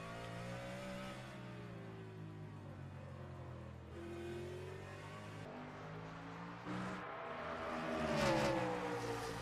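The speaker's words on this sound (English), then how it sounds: "Oh, I love the sounds of the V8 stock cars." V8 stock car engines in a NASCAR sim racing league event at Belle Isle drone and rev with harmonic whines that shift pitch. Several cars pass close, and a louder surge swells near the end.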